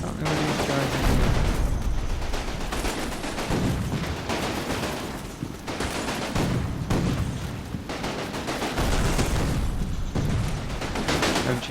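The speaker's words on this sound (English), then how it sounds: "MG42." An MG42 machine gun fires in the Combat Mission war game in repeated loud bursts. Booming explosions and other battlefield gunfire mix in, and a voice talks over the fighting.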